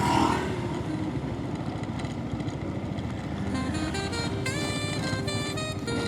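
Motorcycle rolling slowly along a rough, broken road, a steady low engine rumble with rattling throughout and a faint horn-like tone toward the end.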